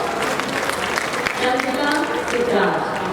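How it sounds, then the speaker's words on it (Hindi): Crowd at a public gathering in Gorakhpur applauding in a continuous, moderately loud wash of clapping, with faint talk mixed in. "तालियां आप लोगों की बजती रहे"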